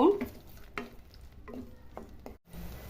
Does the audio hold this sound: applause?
no